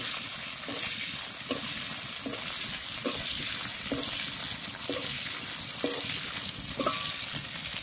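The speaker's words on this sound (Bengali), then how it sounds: "এবার ক্যাপসিকামগুলো দিয়ে দেব, হালকা করে ভেজে নেব।" Capsicum fries in mustard oil with a steady crackling sizzle, while a spatula taps the pan at a regular pace roughly once a second, close and clear without talk.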